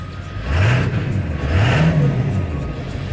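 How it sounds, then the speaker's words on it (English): A high-mileage Ford F350 dually diesel pickup revs twice in quick succession, each surge rising and falling in pitch over a steady idle, close and loud with no talking. "Let's give it a little bit of a rev."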